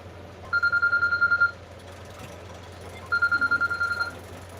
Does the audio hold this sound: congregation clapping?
no